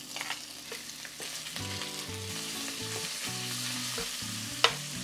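Chorizo frying in a pan for refried beans, a strong continuous sizzle with stirring scrapes, close and steady, with a faint background tone and no speech.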